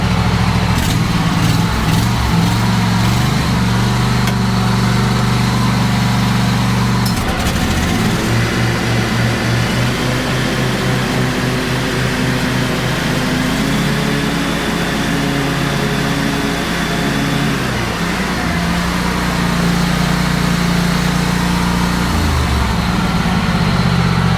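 A Cub Cadet 1529 riding lawn mower runs with its engine driving the mower deck, a loud, steady mechanical drone that holds throughout with slight shifts in pitch, close to the machine and with no talking.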